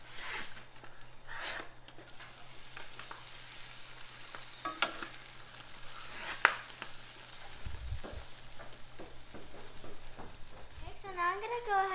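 A crepe sizzles steadily in a hot pan on the stove and gets flipped partway through. Brief scrapes and clicks break up the frying noise, and voices talk over it, including a child.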